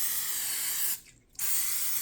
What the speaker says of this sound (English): I'm going to spray my pans